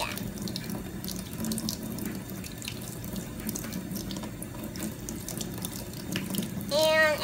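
A kitchen tap runs steadily into a sink while eggs are cracked under the water, a constant close splashing stream with small knocks, ending in a brief squeaky swirl.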